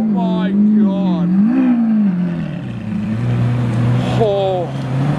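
A Lamborghini Aventador S V12 with a Novitec exhaust revs up in several sharp, loud bursts close by, its pitch rising and falling between blips while a person exclaims over it.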